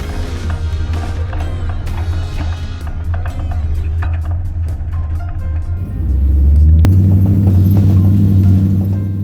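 An off-road vehicle grinds up a loose gravel trail at an ORV park, its low engine rumble steady and close, swelling louder and heavier near the end as it climbs.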